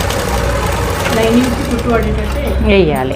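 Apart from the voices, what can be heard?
sewing machine stitching blouse lining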